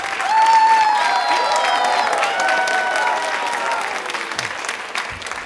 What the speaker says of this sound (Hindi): एक बार वापस से दिल से अपने लिए जोरदार तालियां बजा दीजिए प्लीज।